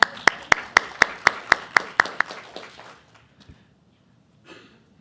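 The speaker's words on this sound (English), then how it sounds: "I say we give him a round of applause." A small group at a school board meeting claps in a quick, sharp, evenly spaced rhythm of about ten distinct claps. The claps fade out after about three seconds, leaving near silence with a faint murmur at the end.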